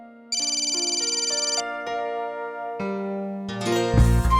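A phone's ringtone plays a bright electronic melody up close, stepping through several notes before building into a fuller, louder phrase.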